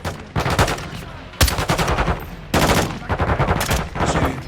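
Sustained machine-gun cover fire rattles in Call of Duty Modern Warfare 2, loud close bursts of rapid shots in several strings with brief gaps between them.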